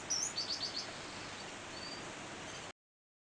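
Songbirds in an aviary bird room give a quick burst of high, thin chirps at the start, then fall quiet over a faint, steady room hiss.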